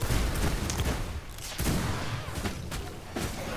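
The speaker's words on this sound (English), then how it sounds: "And there he shoots away because he doesn't want to get frozen." Dense, rapid gunfire from a shooter video game keeps up throughout, a loud continuous barrage of shots and blasts with no voices over it.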